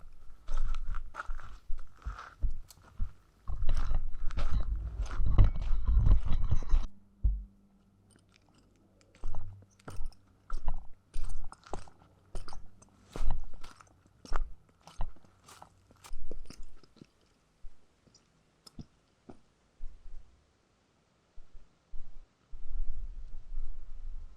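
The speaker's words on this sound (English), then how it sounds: "this is a good place to go chew on a burrito" A burrito is chewed close up on a wilderness trail, giving loud, crunchy, wet bites in steady rhythmic bursts. After a brief pause, the mouth sounds carry on more sparsely.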